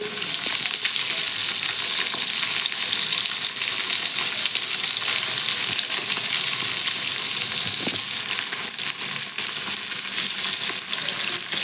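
Fish frying in hot oil in a village kitchen, a loud, continuous, dense sizzle with crackling spatter and occasional soft scrapes as the pieces are turned side to side.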